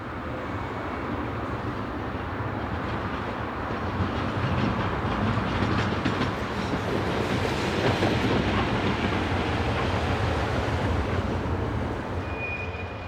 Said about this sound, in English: shunter 6005, belonging to container firm ACTS, is seen heading for the nearby Waalhaven South container terminal